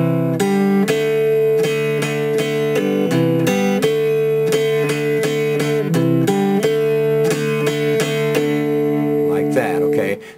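An electric guitar strums the chords of a song with steady up-and-down strokes, a bright, ringing and continuous rhythm played up close for about ten seconds, then stopping abruptly.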